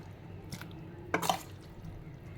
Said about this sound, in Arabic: احط بقى انا فيها الجمبري كده